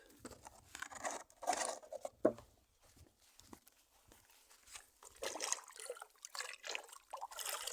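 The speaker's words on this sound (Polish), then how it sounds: "Jeszcze zanim rzuci to zleję matę wodą." Water splashes and patters onto a fishing mat at a method feeder session, coming in irregular bursts of trickling and dribbling, close and fairly quiet, with short pauses between pours.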